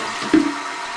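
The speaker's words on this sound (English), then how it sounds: "Did you just flush it again?" A toilet flushes after being unplugged, heard as a short broadband whoosh of rushing water with a brief gurgling surge, fairly quiet and without speech.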